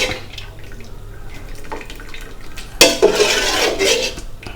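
Boiled frog soup with fermented fish sauce, tamarind leaves and lemongrass is ladled into a bowl: soft clinks of a ladle against a pot, then a louder splash and trickle of liquid pouring in, close by.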